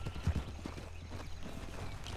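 A horse's hooves clip-clop steadily and close by, each footfall muffled and irregular beneath a dense outdoor background.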